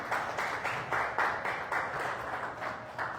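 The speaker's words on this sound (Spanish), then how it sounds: "Dele otro fuerte aplauso al Señor." Congregation at a Spanish-language church service claps in a short burst, the rhythmic, somewhat unified clapping pulsing in waves, fairly quiet and slightly distant.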